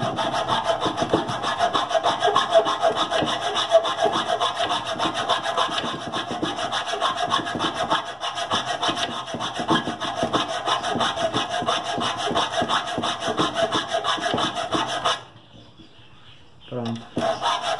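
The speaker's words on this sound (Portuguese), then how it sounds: "Agora vai entrar o processo da lima." A hand file works the teeth of a homemade steel gear rack, giving steady repeated rasping strokes close by and loud for about fifteen seconds, then a brief pause before the filing resumes.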